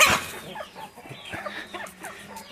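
Medak breed chickens on a Telangana farm give soft, scattered clucks and short calls at close range, with a louder burst at the start followed by intermittent chatter and no voices.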